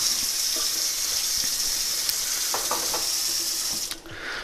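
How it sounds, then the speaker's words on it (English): Cold water pours steadily from a tap onto a glass bottle during bottle cutting, a loud, close, continuous hiss with a few faint clinks before it tapers off near the end. "Then you want to turn on your cold water and then separate."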